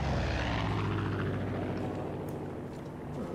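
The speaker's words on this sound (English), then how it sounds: "Oh, the airplane that's looking for me." Enemy airplane in the video game Far Cry 5 passes overhead with a steady droning propeller roar, loud at first and slowly fading, with no talk.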